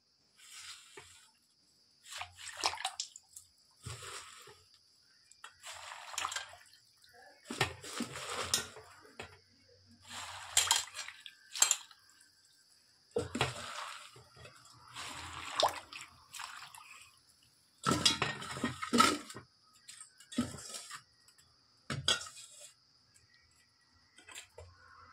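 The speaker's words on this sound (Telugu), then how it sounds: "ఒక గిన్నెలో ఒక వాటర్ తీసుకొని మనం ముందుగా ఒలిచి పెట్టుకున్న గోంగూరని ఇందులో వేసుకొని వాష్ చేసుకోవాలి" Sorrel (gongura) leaves swished and squeezed in a bowl of water, with repeated bursts of splashing, dripping and wet squishing, separated by short pauses. The sounds are close and fairly quiet, and no one speaks.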